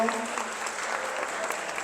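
Steady applause from a wedding crowd welcoming the parents of both families, dense and sustained clapping at moderate volume throughout, with a voice faintly audible underneath.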